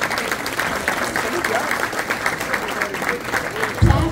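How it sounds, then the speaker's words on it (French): A gathering applauds a corporation's team at an evening tribute event. The clapping is steady and moderately loud, runs for several seconds, and a brief low thump comes near the end. "une belle main d'applaudissements pour l'équipe de la corporation."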